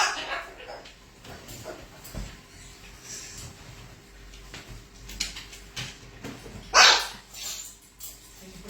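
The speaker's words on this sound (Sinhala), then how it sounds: "බුරනවද?" A dog at home barks, with a few soft yips and whimpers early on and one sharp, close bark standing out later against a quiet room, with faint talk in the background.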